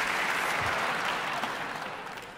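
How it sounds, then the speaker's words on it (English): Dense, steady applause from a large audience at a TEDx talk in Sydney for a beatbox performer, loud and continuous before fading slightly toward the end. "You guys are just applauding for everything, it's great."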